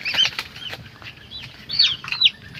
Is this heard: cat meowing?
no